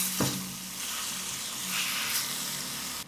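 A quarter kilo of ground meat sizzles with garlic in a hot pan, a steady close frying hiss broken by a couple of sharp stirring scrapes, with no talking.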